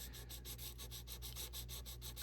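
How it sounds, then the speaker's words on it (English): A fountain pen nib being sanded by hand, rubbed back and forth in an even rhythm of soft, faint scratchy strokes, about a dozen in quick succession. "putting pressure at the front of the tip of the nib at the end, at the back, and I just start rubbing back and forth"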